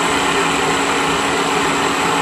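Live rotary tools on a KSI SQC-38 CNC Swiss-type lathe spin at 2,000 RPM, two synchronized spindles, giving a steady, loud, close whirring hum with a constant high whine and no break.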